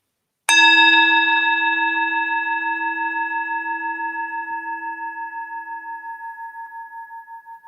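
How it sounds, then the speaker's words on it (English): A meditation bell is struck once and rings out clearly, its bright overtones sustaining and slowly fading with a gentle pulsing shimmer over several seconds, alone in a quiet room. "When you hear the next bell, use this bell to draw a few deep breaths in"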